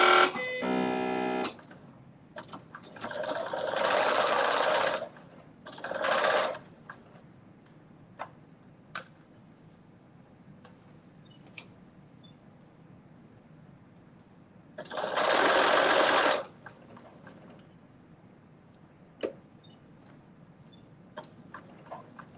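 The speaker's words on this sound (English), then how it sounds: "you're going to stitch from the small dot to the large dot" A domestic sewing machine stitching a 5/8-inch seam on a Simplicity 9825 garment, three bursts of rapid whirring at close range separated by quiet pauses with small clicks and handling ticks, no talk.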